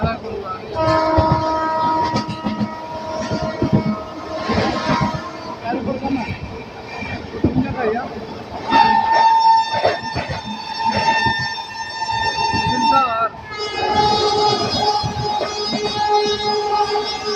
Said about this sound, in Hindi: सामने से आने वाली है ट्रेन नंबर 12333 हावड़ा प्रयागराज बाग विभूति एक्सप्रेस